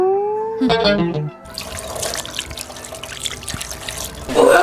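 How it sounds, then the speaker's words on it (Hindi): Water gushes from a tap after a motor pump is switched on, a steady splashing flow following a brief howling tone, with a louder burst near the end. "पानी आ गया, पानी आ गया।"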